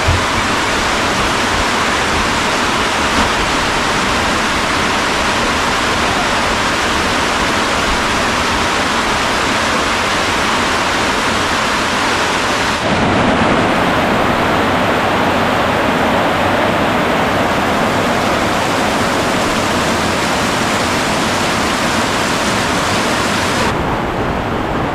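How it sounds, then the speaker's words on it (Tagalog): Heavy rain pours down in a rural area beside a creek, a dense, constant hissing roar with no clear thunderclaps, loud and unbroken throughout. "Ang lakas po ng ulan mga kaprobinsya."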